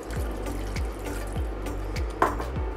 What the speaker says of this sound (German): Sobald die Butter geschmolzen ist, können wir uns 100 Milliliter Wasser hinzugeben